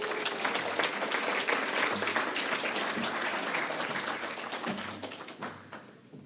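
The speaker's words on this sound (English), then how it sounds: "Please give Moody a round of applause as he comes forth" A room full of guests at a leadership awards luncheon applauds as a presenter comes forward, sustained clapping with a few sharp taps that gradually thins and fades.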